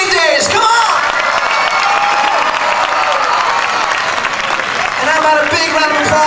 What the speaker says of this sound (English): put your hands together for this amazing festival, Kool-Aid Days, come on!